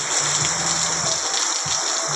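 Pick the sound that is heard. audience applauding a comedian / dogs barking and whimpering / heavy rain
heavy rain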